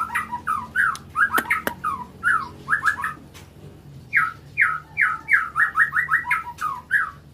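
A white-rumped shama repeats quick, bright whistled phrases in bursts, loud and close, with short pauses between rapid runs of notes.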